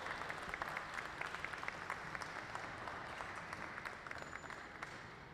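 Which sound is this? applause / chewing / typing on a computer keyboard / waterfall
applause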